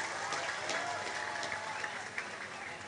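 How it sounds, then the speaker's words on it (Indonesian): A crowd at a religious lecture gathering claps for a guest being introduced, a steady, fairly loud spread of hand clapping, with faint voices underneath. "tepuk tangan buat Cici Faramida"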